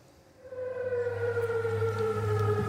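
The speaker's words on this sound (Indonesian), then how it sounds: "Sirine meraung di kota aman saat angkatan bersenjata Yordania mencegat serangan rudal Iran." An air raid siren wails in Amman during an Iranian missile attack, its steady tone rising in loudness after a quiet start and holding a long, droning, slightly falling pitch.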